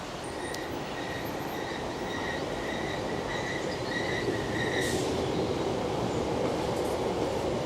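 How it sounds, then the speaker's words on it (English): A Class 720 train rolls steadily into Clacton-on-Sea station with a continuous rumbling roar and faint metallic squealing tones from the wheels; no one speaks. "I think the train's just coming in."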